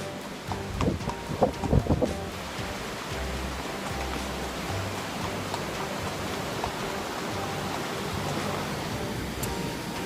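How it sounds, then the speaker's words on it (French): Steady broadband rush of a waterfall beside a trail, a continuous roar filling the whole clip with a few brief louder knocks and rustles near the start. "on arrive au niveau d'une cascade que je vous montre de suite"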